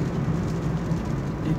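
Rain patters steadily along a coffee plantation trail in sunshine, a continuous close hiss with a low rumble underneath and no voices.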